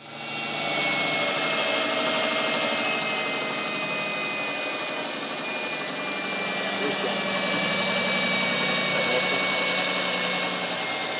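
A power tool whines steadily as it drills out the honeycomb core inside a rowing shell. The sustained buzz holds for about eleven seconds, with a slight wavering in pitch.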